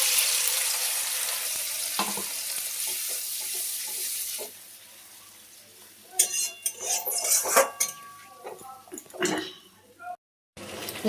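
Ground spice paste goes into hot oil where kalonji seeds are already frying for a Bengali aar fish curry. A sizzle fades, then a metal spoon clatters and scrapes in the pan, with a voice speaking.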